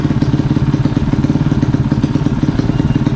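A Honda CT70 minibike engine runs steadily after warming up, a loud, close, even putter with a rapid regular pulse and mechanical clatter, with no voices over it.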